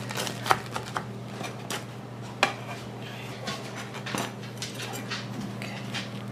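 A knife crunches across crispy homemade pizza crust piled with toppings, giving a few sharp crackling snaps amid quieter scraping over a low background hum.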